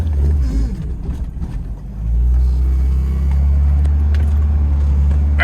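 A Shelby Dodge Daytona Turbo Z engine idles a little high after its vacuum system was redone. It gives a steady, deep, close rumble that settles and firms up partway through, with faint clicks on top and no speech.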